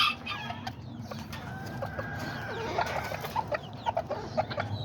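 A tiny rooster and a tiny hen cluck close by in repeated short bursts, one drawn-out crow-like call midway, over a low steady background.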